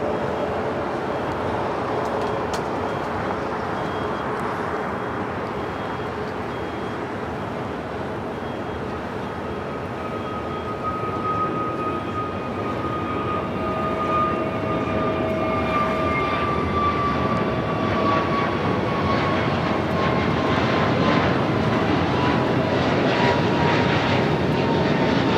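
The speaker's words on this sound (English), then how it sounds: "Next up for takeoff, American Airlines Flight 801 heading to Vegas" An American Airlines Airbus A321neo jet takes off at Los Angeles airport with a loud, sustained engine roar. A rising whine builds and grows louder over about twenty-five seconds, and no voices are heard.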